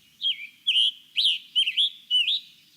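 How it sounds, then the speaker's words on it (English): Clear, high scarlet tanager and hooded warbler song in short repeated phrases, five quick whistled bursts with brief gaps, close and alone against silence. "Songbirds, like the scarlet tanager and hooded warbler we've been hearing"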